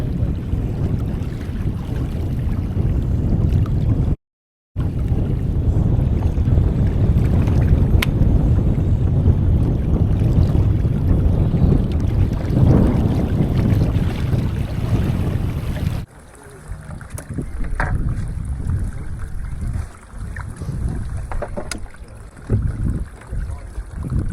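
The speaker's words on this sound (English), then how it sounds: "It's very cold, it's pretty wet, and it's very windy." Heavy cold, wet wind buffets the microphone on a kayak fishing lake in a loud, continuous roar, broken by a brief dropout, then easing into gustier, lower rumbling near the end.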